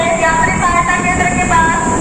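A train stands waiting at Deen Dayal Upadhyaya railway station, with a steady mechanical hum and whine filling the background and a constant, moderately loud drone that holds without change.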